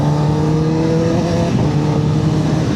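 A superbike engine, a Suzuki GSX-R1000 or Kawasaki ZX-10R, idles loudly and close with a throaty, even drone and a slight rise in revs partway through.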